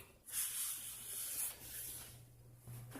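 WD-40 lubricant hisses from a spray can in short, faint bursts: two or three close, airy sprays separated by brief pauses, with no voices.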